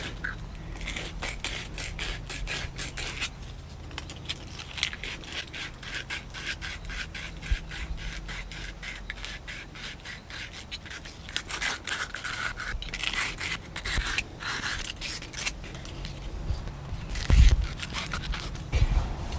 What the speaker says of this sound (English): I always sand the inside.